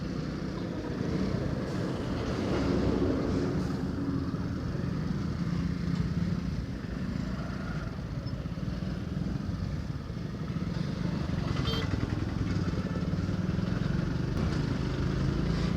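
Motorcycle riding through congested traffic on the road between Anand and Vadodara, its engine a steady rumble under wind and road noise, with passing vehicles mixed into the background.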